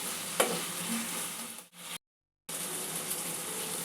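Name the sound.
spices frying in a pan for ridge gourd curry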